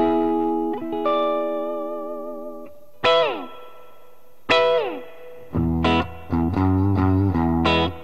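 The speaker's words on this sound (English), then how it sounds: "A really good spring sounding reverb." Electric guitar notes and chords through a Big White Monkey Chimp MK 3 combo amp, drenched in heavy valve-driven spring reverb, each strike followed by a splashy, metallic tail that rings out between phrases.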